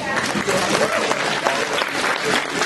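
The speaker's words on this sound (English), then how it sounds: "Round of applause." A crowd applauds at a Miss Rodeo Oklahoma coronation event, with dense, continuous clapping and some cheering and voices mixed in, sustained evenly at a fairly loud level.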